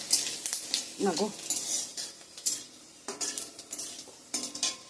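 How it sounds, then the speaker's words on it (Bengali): Panch phoron spices and a dried chilli sizzle in hot oil, a hissing crackle with bursts of stirring and utensil clatter against the pan, and someone speaking briefly. "একটু পাঁচফোড়ন দিয়ে দেব, দিয়ে দিলাম পাঁচফোড়ন"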